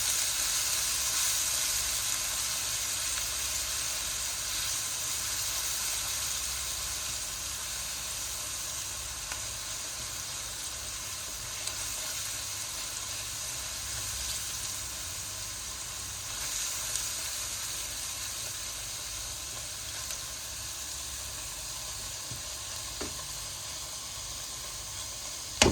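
Onions fry in a pan with a steady, quiet sizzling hiss that lasts throughout, with a few faint clinks of stirring and no voices.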